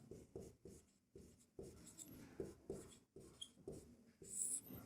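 Pen or marker strokes on a board as a table is drawn up during a Class 10 statistics maths lesson: repeated scratchy bursts of writing in quick irregular strokes, close and fairly clear, with no talk.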